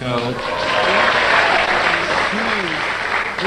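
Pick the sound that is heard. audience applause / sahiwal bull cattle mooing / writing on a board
audience applause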